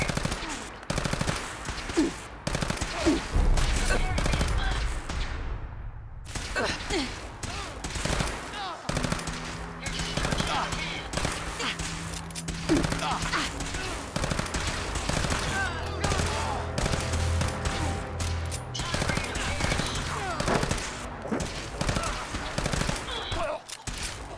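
Rapid automatic gunfire and single shots in Fallout 4 combat, loud bursts firing almost nonstop with a brief lull, mixed with game effects and occasional robotic voice lines.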